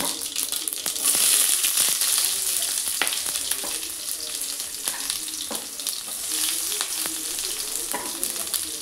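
Cumin, mustard seeds and onions fry in a hot pan, a steady close sizzle with scattered crackles and occasional scraping stirs, no voices over it.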